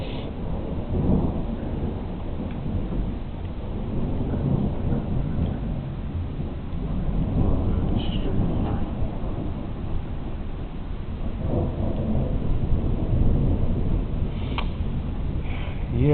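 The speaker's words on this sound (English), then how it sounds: "Yeah, just another thunderstorm in my area." A thunderstorm rumbles outside a house, low rolling thunder swelling and fading over steady rain, with a few sharper drips or cracks scattered through the wash.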